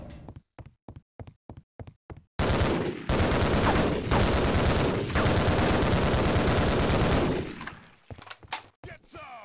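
Rapid automatic gunfire in Half-Life: Opposing Force, starting with a string of separate, evenly spaced shots and then a long, loud, dense burst of fire that cuts off abruptly, followed by a few scattered shots.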